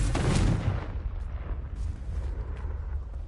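A Confringo fire spell from Hogwarts Legacy bursts into a loud blast at the start, followed by a rumbling, crackling decay and a few fainter pops as the explosion dies away.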